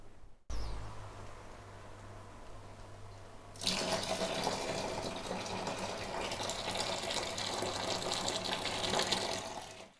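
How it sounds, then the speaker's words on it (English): A low hum gives way to a loud, steady rush of boiling water pouring and gushing from a kettle into a home-brew bucket, close and continuous for several seconds. "I'm going to add another kettleful of boiling water to that"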